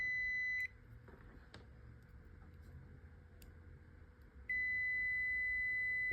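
A multimeter gives a continuity beep while probing the transformer wires of a car battery charger under repair: a steady high tone that stops briefly, then resumes and holds near the end, with no speech.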